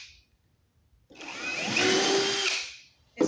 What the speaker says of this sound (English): You want to pre-drill your screws